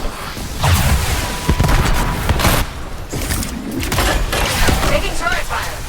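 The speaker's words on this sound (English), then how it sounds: "Taking turret fire." Turret gunfire in the video game Anthem, a loud barrage of rapid impacts and booms with dense crackling bursts, mixed with game sound effects and a voice talking.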